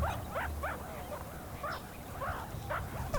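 Meerkat pups make repeated high, rising begging calls, several short squeaky chirps in quick succession against a faint outdoor background.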